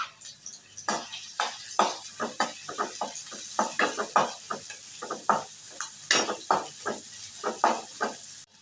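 Gobi (cauliflower) being fried and stirred in a pan, a steady run of short scraping and clattering strokes over a faint sizzle, close and fairly quiet, with no talk.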